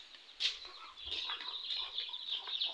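Chickens in a farmyard coop, faint clucking and a brief flutter of wings, heard from a short distance.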